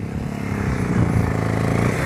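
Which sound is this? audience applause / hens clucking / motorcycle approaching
motorcycle approaching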